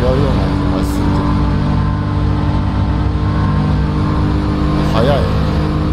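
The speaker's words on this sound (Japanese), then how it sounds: "35GTR と同じエンジン、でもなんかちょっとエンジン音が違うような気がするけど" A car engine in a racing game, sharing the R35 GT-R's engine, drones loud and steady with a strong harmonic hum, holding a near-constant pitch throughout, with brief higher sweeps here and there.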